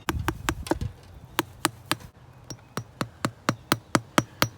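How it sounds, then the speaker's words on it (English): Roofing nails being hammered partway into a frame to hold chicken wire, about a dozen sharp metallic strikes in uneven bursts then a steadier rhythm, close and loud with no talk. "Not going to hammer them all the way in."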